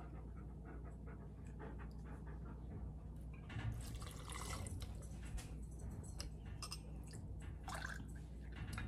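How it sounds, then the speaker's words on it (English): Absolut Peach Vodka pours into glasses in a kitchen, a close trickling, gurgling stream of liquid that builds midway and runs on with splashy bursts, no talking. "We are gonna start out with some Absolute Peach Vodka. We're gonna do a 60 ml pour in each of these."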